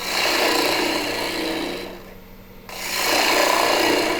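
A scraper on a wood lathe hollows out a wooden speaker cone with a continuous close rasping scrape that eases off briefly in the middle, then grows strong again.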